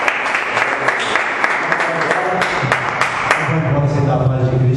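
A church congregation applauds during a worship service, with dense, steady clapping running throughout and voices mixed into the crowd noise.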